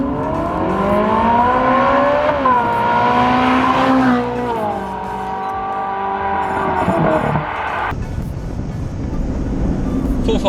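Ferrari 458 Italia with a naturally aspirated 4.5 litre V8 revving hard and accelerating, a loud rising engine howl with gear-change dips. The note drops away near the end into road and cabin noise.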